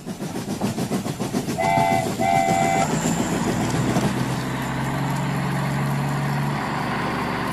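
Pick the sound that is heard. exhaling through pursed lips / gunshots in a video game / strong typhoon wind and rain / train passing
train passing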